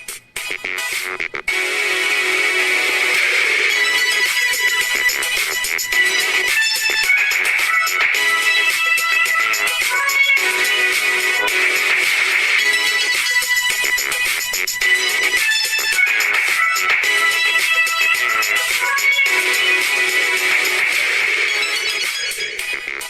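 Music played back through the transducers of Naenka Runner Diver bone conduction headphones and picked up by a nearby camera microphone, sounding thin, bright and tinny, with a continuous steady level and no talking.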